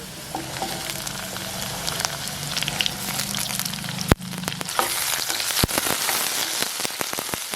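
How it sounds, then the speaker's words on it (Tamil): Whole onions sizzle steadily in a hot pan of oil for an onion stalk curry. A dense, even crackle runs throughout, with a few sharp knocks and stirring scrapes near the end and no speech. "நாங்கள் இந்த முழு வெங்காயங்களை போடுவோம்"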